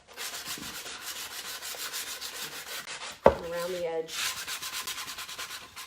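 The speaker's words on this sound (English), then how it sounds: "I'm going to do another sanding through the stripes" Sandpaper rubbing over a painted wood sign to distress its stripes, a steady scratchy back-and-forth texture, with a brief knock and a short spoken phrase in the middle.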